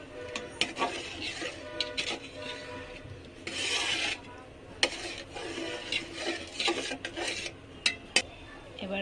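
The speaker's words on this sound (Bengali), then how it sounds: "ভালোভাবে নেড়ে দিব।" Milk is stirred in a pot for jaggery rice pudding, with uneven scraping and rubbing strokes and occasional knocks of the spoon on the pot, close and fairly quiet, over faint background noise.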